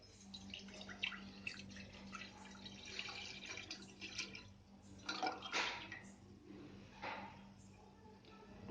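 Milk poured into a pan on a stove for fruit custard gives a soft, trickling liquid splash with small drips, fairly quiet and steady over a low hum.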